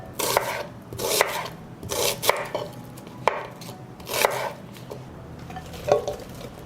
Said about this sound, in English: I'm gonna chop 4 onions.